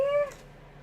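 A single short, clear meow from a pet cat, close and distinct, with a little room noise after it.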